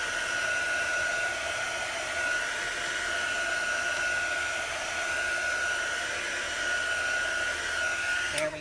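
A heat tool runs continuously at close range, drying a canvas-backed chalk craft project with a steady whirring blow that cuts off at the very end.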